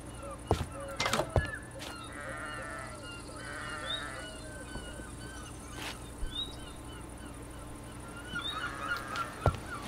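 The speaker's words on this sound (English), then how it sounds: "these sheep sound sick," Sheep in the Minecraft video game bleat in a few short, harsh cries scattered across the clip, heard over a steady ambient game background with other faint animal calls.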